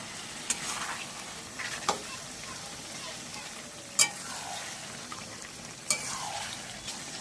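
Mutton fat pieces fry in a pressure cooker with a constant hiss and sizzle, broken by a few sharp metallic clinks from a utensil stirring against the pot.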